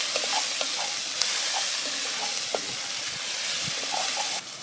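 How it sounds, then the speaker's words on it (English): Tomatoes hit a pot of bear meat chili over a campfire, giving a steady close sizzle with scattered crackles and small pops, with no talking. "Now we're going to add our tomatoes."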